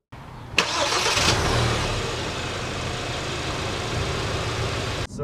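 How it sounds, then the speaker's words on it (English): A Kia Optima SX Turbo sedan started by push button: a quick starter whir and catch, a brief rev flare, then a steady close idle hum that cuts off at the end. "step on the brake, and press the start button"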